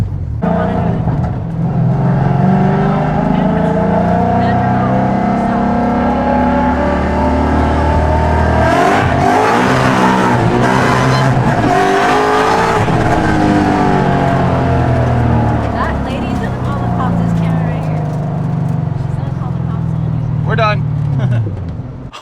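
A Ford Mustang fitted with a new aftermarket part accelerates hard through the gears with short shifts, its engine note climbing and dropping repeatedly, loud and close throughout.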